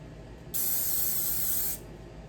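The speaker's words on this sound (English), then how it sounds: "and then hit it with the free spray." A short hiss of aerosol activator spray over glue on hardwood, a single steady burst lasting about a second, close and clear against a quiet room.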